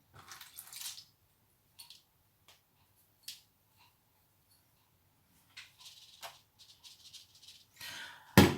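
Pepper seeds soaked overnight in tea are drained, with brief splashes of pouring water, scattered small clicks and drips, and a louder rush of water at the end. No one talks.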